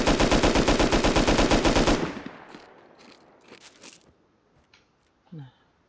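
Rapid automatic gunfire from a turret in the survival game Rust, a loud, fast, evenly spaced burst lasting about two seconds, then breaking off into faint scattered clicks and a short tonal blip.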